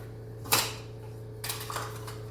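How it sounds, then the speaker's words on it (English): A 6-quart pressure cooker pulled out from a kitchen cabinet, one sharp metallic clank followed later by a softer rattle and shuffling of pots, close, over a low steady hum. "I'm gonna get my pressure cooker out."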